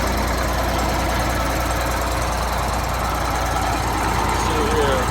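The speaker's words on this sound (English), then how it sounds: "Detroit engine." Detroit diesel engine idling in a 1986 MCI motor coach bus, a steady, loud, close rumble with a fine knocking texture that holds constant throughout.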